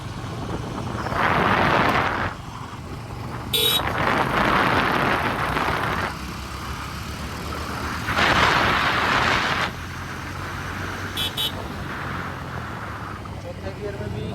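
Two motorcycles, a Honda Hornet 125 and a Bajaj V15, accelerate in fourth gear from 30 to 60 during a drag test, their engine noise rising in loud bursts with wind rush and spoken commentary between runs.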